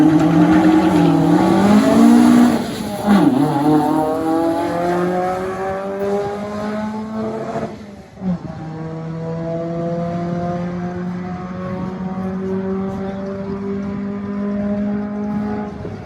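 A Cosworth Ford Cortina makes a drag racing run down the strip at Santa Pod Raceway, its engine roaring loud and close, climbing in pitch through the gears with brief dips at each shift.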